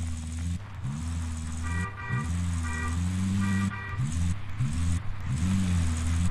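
Car driving in the video game Warzone, a steady engine drone with shifting revs running throughout, with a few brief tonal beeps over the top and no talk.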